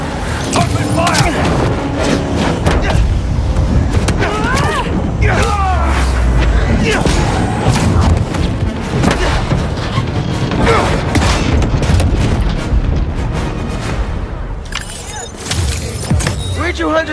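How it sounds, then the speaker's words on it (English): Gunfire rattles in the Spider-Man 2 video game as hunters open fire during a vehicle chase, with bursts of shots, booms and impacts layered over engine noise, alongside voices. "Open fire!"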